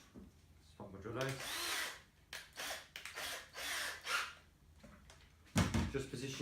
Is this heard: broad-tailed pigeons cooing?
no